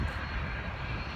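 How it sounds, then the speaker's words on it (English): A fixed-wing airplane passes overhead as a steady, broad engine drone, moderately loud and unbroken through the short span, with no voices. "Man, that is a beautiful plane."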